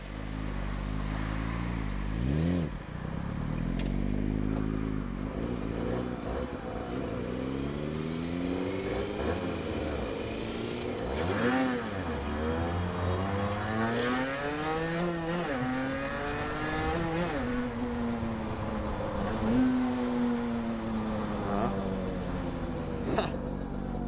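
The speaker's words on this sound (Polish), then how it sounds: "dużo gazu dać jak startujesz, z wysokich obrotów, bo inaczej ją zamuli." A heavy motorcycle of about 200 kg starts off from high revs, its engine rising and falling through repeated loud revving sweeps over a steady roar for the whole stretch.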